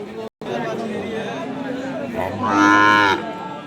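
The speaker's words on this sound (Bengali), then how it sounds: "সুন্দর একটা শাইওয়াল জাতের লাল একটা বাছুর গরু" A red Sahiwal breed calf, about seven to eight months old, gives one loud drawn-out moo near the end amid the chatter of a crowded Bangladeshi livestock market, with people talking throughout.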